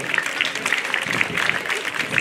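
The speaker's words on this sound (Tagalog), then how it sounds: "May kasamang ngiti at palakpak ng malakas" Loud, steady applause from a crowd at a Bonifacio Day ceremony as community groups are called out, dense clapping, close and continuous throughout.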